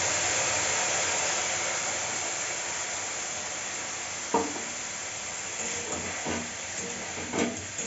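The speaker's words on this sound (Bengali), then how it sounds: "এটা একটু নেড়ে চেড়ে ভালো করে ভেজে নেবো" Ground gandal leaf paste fries in a pan with raw banana, giving a loud, steady sizzling hiss that fills the whole stretch, with a few scraping stirs near the end.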